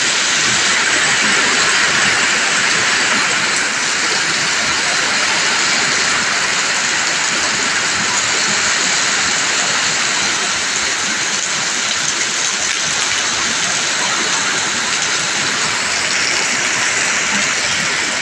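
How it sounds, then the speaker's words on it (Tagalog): Steady, heavy rain pours in Pangasinan, Philippines, with a constant dense hiss, wind noise mixed in, unbroken throughout. "ang lakas ng ulan tapos malakas din ang hangin"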